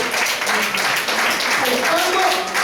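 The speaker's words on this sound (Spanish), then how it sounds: "un fuerte aplauso al Señor mejor" A church congregation applauds during a worship service. Brisk, continuous clapping from many hands fills the space, loud and close, with voices talking over it.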